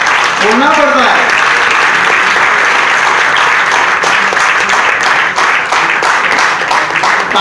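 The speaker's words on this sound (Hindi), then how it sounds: "तालियां प्लीज," A large audience claps steadily at an award event, a loud, dense, continuous roar of applause, and a voice speaks over it near the start.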